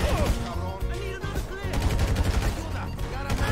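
Gunfire in a video game: dense, rapid bursts of shots layered with music-like tones and game effects, loud throughout.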